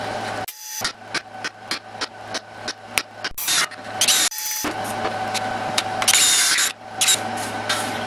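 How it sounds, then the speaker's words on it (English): A power drill whirs in a rapid series of short bursts, then runs longer and louder drilling air intake holes into a metal rocket stove, with brief pauses between holes. "Gonna drill some holes in here"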